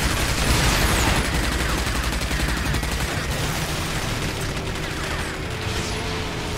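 Gunfire rattles continuously in the video game RAGE, a dense run of shots under steady engine and vehicle noise during a driving sequence, loud and close throughout with no pauses.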